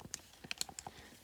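Quick keypresses typing numbers on a calculator, about eight light clicks in a rapid uneven run, close and faint, no voice over them.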